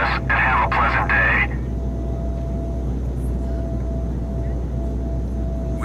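A loud, steady airplane engine drone plays as a sound effect in a toy stop-motion story, with a louder busy burst at the start before settling into a constant hum.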